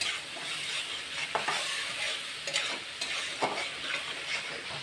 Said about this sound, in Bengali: তা এখন আমি কড়ার মধ্যে দিয়ে দিব। এটাকে ভালো করে একটু কষিয়ে নেব।